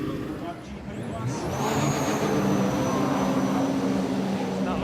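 Racing jet skis roar at the start of a British JetSport Championship race on a lake, a dense continuous engine drone with rising revving whine that swells and holds loud throughout.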